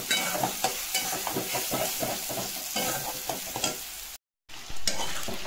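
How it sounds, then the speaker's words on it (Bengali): Cumin and spices frying in a pan with a tomato and coriander paste, a close, steady sizzle broken by repeated stirring scrapes, ending in a short silence and a final burst of frying. "এতে জিরে ফোড়ন দেবো, সব মশলা দিয়ে দিলাম।"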